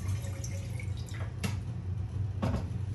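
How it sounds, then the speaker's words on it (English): Water being added to a turkey brining container, a few faint splashes and drips over a low steady hum, quiet and close. "just add a little more water."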